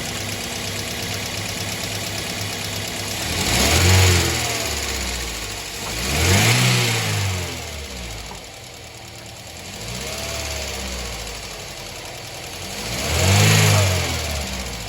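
Toyota Corolla GLI engine running with an abnormal sound, steady idle broken by several swelling revs, close and fairly loud with no talk.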